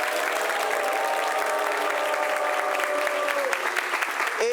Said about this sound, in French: Applaudissements pour vous-même, cher public.